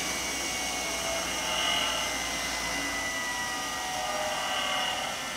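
A 3-horsepower electric motor on a homemade belt grinder with a well-balanced flywheel runs at a steady speed. It gives a continuous whirring hum that swells slightly in the middle of the clip. No one speaks.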